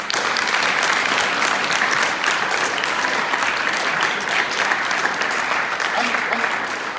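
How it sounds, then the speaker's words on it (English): Loud, dense applause from a large audience of young people at a talk, unbroken sustained clapping that fills the room at steady volume throughout. "by a round of applause, loud applause"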